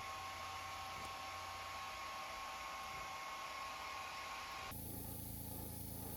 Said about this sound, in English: Before adding any masking or netting, I'll dry the lure thoroughly.